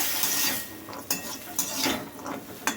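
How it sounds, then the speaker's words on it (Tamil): Boiled peanuts for sundal are stirred in a pan with chillies and salt. Close, irregular scraping and clinking of a spoon against the pan comes over a faint sizzle, with no talking. "இப்போ கொஞ்சம் அந்த மிளகாய் நெடி அடங்கிறதுக்காக கொஞ்சம் ஒரு லேசாக கொஞ்சம் வதக்கிக்கோங்க."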